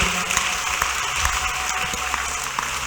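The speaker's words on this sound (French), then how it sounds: "Applaudissons pour le Seigneur. Let's clap for the Lord." Church congregation clapping for the Lord during a testimony service, a steady, dense wash of many hands filling the room, with a few louder claps standing out over a low murmur.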